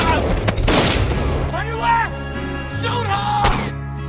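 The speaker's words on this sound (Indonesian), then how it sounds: "terjadi baku tembak di sini" A gunfire shootout in an action film about a sharpshooter, with several sharp, loud shots crackling out in bursts amid dramatic music and voices.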